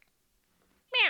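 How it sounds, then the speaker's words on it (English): A cat gives one quick, short meow, loud and close, right after near silence. "That was like a quick little meow."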